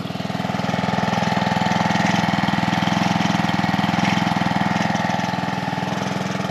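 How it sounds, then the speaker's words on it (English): A small Honda petrol rotavator engine runs steadily at idle, a close, continuous chugging drone with no voices. "It's not a motorbike, it's my rotavator."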